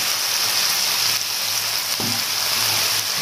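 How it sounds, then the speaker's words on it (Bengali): Potatoes and onion stalks frying in a pan with salt, turmeric and cumin powder, producing a loud, steady, dense sizzle that holds unchanged throughout. "ভালো করে ভেজে নেবো"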